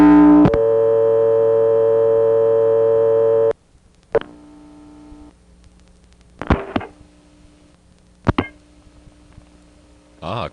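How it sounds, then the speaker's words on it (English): A 1976 step-by-step telephone exchange trunk in Colonial Beach, Virginia breaks into a loud steady multi-tone oscillation that cuts off abruptly, followed by quieter sharp clicks and short bursts of tone as digits are dialed. "The trunk starts to go into oscillation every time we dial a digit"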